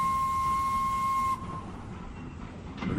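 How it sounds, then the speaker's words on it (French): A steam whistle from an 030 steam locomotive on the Petite Ceinture railway in Paris around 1900, sounding as one steady, loud toot lasting over a second before cutting off into quieter rumbling rail ambience. "Je vais le saluer d'un petit coup de sifflet."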